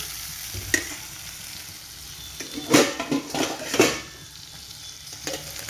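Tomatoes and onions are stirred in a cooking pot for a country fish curry: a soft frying hiss with a few clear scraping strokes of the spoon midway, close by and moderately loud.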